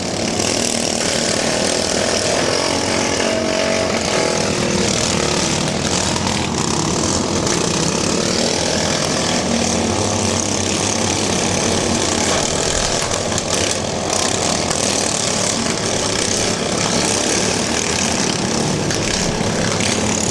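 Several racing lawn mowers, one a modified John Deere with a yellow roll bar, roar continuously at a bash-for-cash race, a loud, dense engine drone that holds steady throughout.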